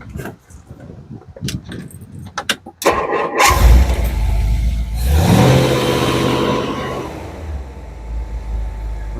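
A 1963 Ford Thunderbird convertible with a 390 engine and three two-barrel carburetors cranks after a few clicks and fires up loudly, then settles into a rumbling idle with a brief rev.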